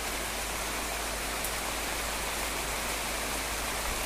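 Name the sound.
heavy rain in garden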